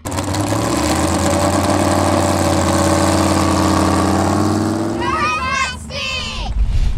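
A 427 big block Chev engine in a pulling tractor named Stampede idles steadily and loud at a tractor pull event, with a deep rumble throughout; a voice talks over it near the end.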